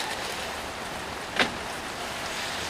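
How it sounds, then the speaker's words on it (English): Steady rain falls outdoors, a continuous soft hiss throughout with one brief louder splash or patter near the middle; no one talks. "You hear the rain?"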